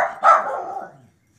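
A miniature schnauzer gives a single sharp, close yap that trails off quickly into silence.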